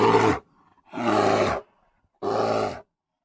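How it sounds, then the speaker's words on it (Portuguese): A bear gives three loud, close roars. Each is a deep, growling burst of about half a second with short silences between them. "Som do urso."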